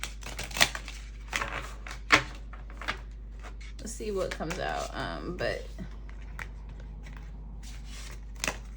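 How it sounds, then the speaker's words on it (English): A deck of tarot cards is shuffled by hand, giving a soft, papery riffle that swells for a couple of seconds mid-clip among scattered taps and a person talking. "I'm gonna shuffle them off screen."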